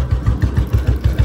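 A tractor engine idling close by, a loud, steady low chugging beat with evenly spaced thumps and no voices.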